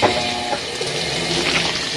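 A washing machine fills with water, giving a steady, loud rushing hiss of incoming flow with no talk.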